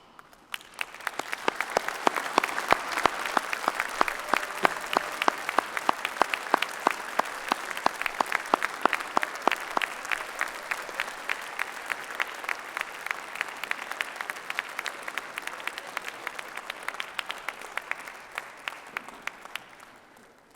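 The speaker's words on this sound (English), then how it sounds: "join me in a round of applause to say thank you for all that they've done to help you" Graduates at a Swinburne graduation ceremony give a long, loud round of applause that swells quickly, holds dense and steady for about twenty seconds, then tapers off.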